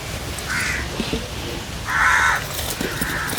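Crows caw outdoors near a cooking fire where palm-fruit rotte bakes on banana leaves: three separate caws, about a second apart, the middle one loudest, over a steady background murmur.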